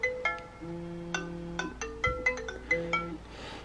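A phone ringtone plays a bright, repeating melodic pattern of short tones, fairly quiet and alone, cycling several times with a steady rhythm.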